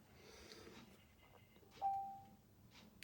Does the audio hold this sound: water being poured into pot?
no